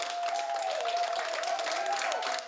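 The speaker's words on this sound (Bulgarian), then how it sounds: "Бурни аплодисменти за 90-годишната Маргарет Кинън, която стана първият човек вакциниран срещу COVID-19 във Великобритания." Sustained crowd applause greets 90-year-old Margaret Keenan, the first person in the UK vaccinated against COVID-19, steady dense clapping throughout with a faint tonal hum running underneath.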